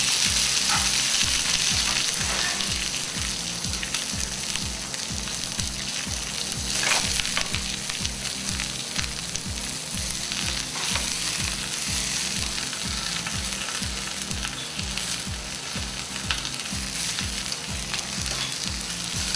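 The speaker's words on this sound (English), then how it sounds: "breast down, hot searing pan" Pheasant breast searing skin-side down in a hot pan, a dense, continuous close sizzle with a regular pulsing rhythm and occasional clinks, with no talking.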